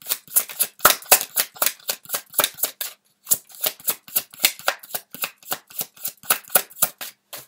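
Tarot cards being shuffled and drawn, a quick steady run of sharp card flicks and slaps, close and clear, with one brief pause partway through.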